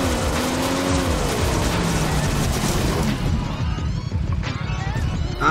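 A motorbike revving and driving in the PUBG Mobile battle royale game, a continuous engine drone with shifting pitch that stays loud throughout over dense in-game noise.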